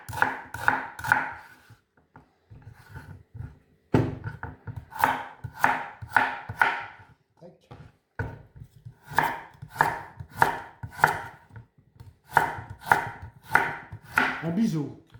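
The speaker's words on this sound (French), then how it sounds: "Moi, je suis habitué à tailler en biseau." Knife slicing vegetables on the bias for a broth, rapid close chops on a board in quick clustered runs separated by short pauses, with no voices over them.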